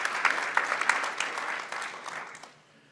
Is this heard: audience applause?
yes